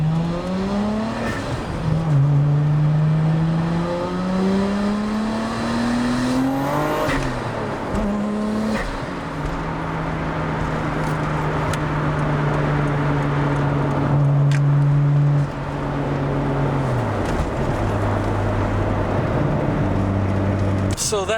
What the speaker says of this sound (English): So that sound that you're hearing, yes, that's indeed an RB26, but it's not just an RB26.